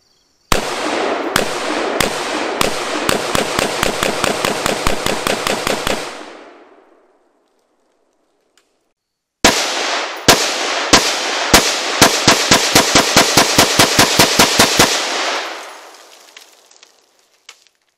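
Rifle emptying the rest of a magazine of M855 green-tip rounds into a Level III special-threat armor plate, two long strings of sharp, rapid, loud shots with a silent gap between them.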